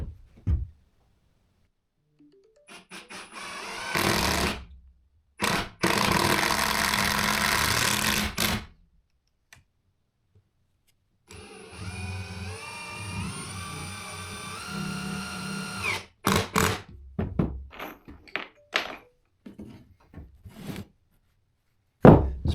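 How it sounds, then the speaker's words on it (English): A power drill drives screws into wooden walls, several separate whirring bursts of a few seconds each with quiet pauses between, one longer run in the middle, plus some knocks and handling noises. "We are going to screw the walls in this way"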